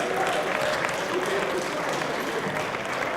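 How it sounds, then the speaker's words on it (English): An audience claps for a band at a student research poster session, a dense, even spread of applause holding steady and fairly close throughout, with faint voices mixed in. "Let's give our band another round of applause."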